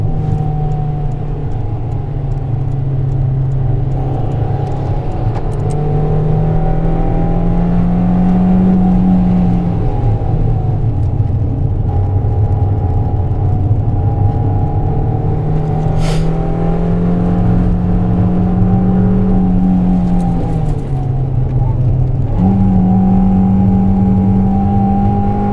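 A Fiat Panda 100HP laps a race circuit, its engine droning steadily from inside the cabin and rising and falling in pitch as it accelerates, shifts and brakes, loud and continuous with no talking.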